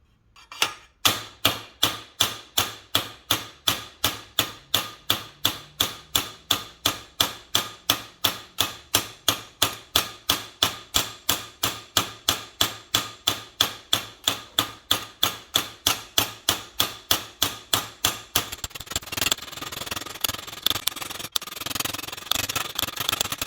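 Sheet metal being stretched between two hardened steel surfaces, heard as a fast, evenly spaced series of sharp metallic hammer blows, close and loud, running for about eighteen seconds before giving way to scraping and handling noise.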